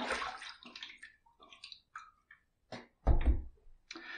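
Water from a tap runs in short bursts while a face is rinsed after a shave, with splashing, trickles and a dull thunk of something set down nearby, fairly close and quiet.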